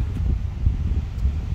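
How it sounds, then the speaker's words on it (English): Wind blowing outdoors while a Kia EV6 GT is being detailed, low rumbling gusts buffeting the microphone with a steady rustle, close and moderately loud, with no talk. "Of course, I come outside now, it's windy."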